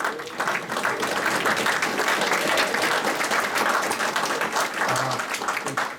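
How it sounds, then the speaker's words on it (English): At a building ceremony, an audience applauds as honorees stand: continuous mid-level clapping from a roomful of people, steady throughout without a clear break. "might as well have you stand up and we'll get the applause"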